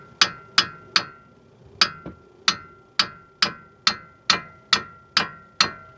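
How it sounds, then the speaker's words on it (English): Thirteen sharp metallic taps, evenly spaced about every half second, as the back of a hammer knocks a front brake part tight on a 2008 Subaru Legacy; close and ringing, with no talk. "I'm gonna take the back of a hammer here and just"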